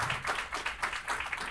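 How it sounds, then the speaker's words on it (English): A small crowd claps in a quick, steady burst of applause, close and fairly loud, with no talking. "So we're going to clap for Amazon and Around the Clock Inc."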